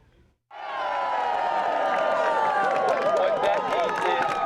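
A crowd of dozens cheers and shouts at a rally in Philadelphia, erupting suddenly after a brief quiet and holding steady at full volume, with whoops and voices rising over the applause.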